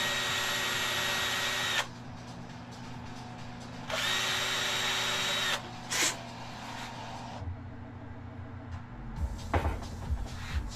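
Power sander working on a handmade swimbait at the pin connection in a shop, two steady whining bursts of a few seconds each with short pauses, then a brief sharp burst and quieter clunks and handling noises, moderately close.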